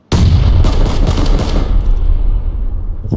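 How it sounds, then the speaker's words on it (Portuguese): Gunfire in PlayerUnknown's Battlegrounds: a loud, close burst of rapid shots starting abruptly, sustained for about a second and a half, then trailing off into a fading echo. "Você tá atirando"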